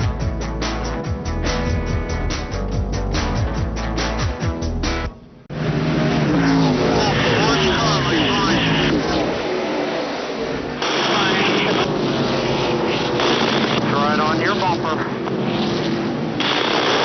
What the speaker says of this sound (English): we're back racing here at Toledo Speedway with the Hantz Group 200